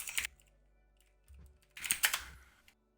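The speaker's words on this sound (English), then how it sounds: "I'll just type in my gamer tag for this" Two short bursts of typing on a computer keyboard, quick close key clicks separated by a brief pause, with no voices.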